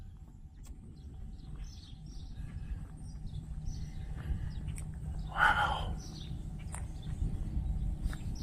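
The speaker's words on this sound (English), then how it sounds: "the birds are out. You can hear them chirping away." Faint, scattered bird chirps rise above a steady rushing wash of outdoor noise in flooded Metropolis, Illinois, with one brief louder call partway through.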